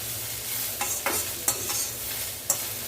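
Coconut mixture for bitter gourd curry sautéed in a pan, with a low steady sizzle and a few sharp spoon scrapes and taps against the pan.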